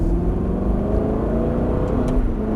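An Aston Martin accelerating hard on a test circuit, its engine droning in a steady, loud, rising roar heard from inside the car, with no talking.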